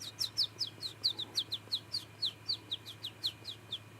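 A person whistles imitation bird calls, a quick run of about fifteen short, sharp chirps at an even pace, close and clear over faint steady background hum.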